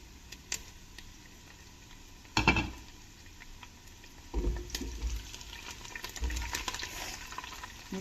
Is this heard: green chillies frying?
yes